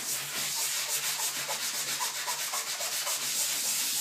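Rhythmic back-and-forth sanding scrapes across wood, a steady hissing rasp repeating several times a second, close and alone.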